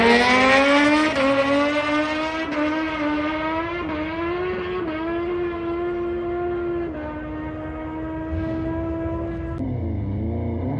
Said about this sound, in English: my bike actually went into a rolling burnout once I got to 3rd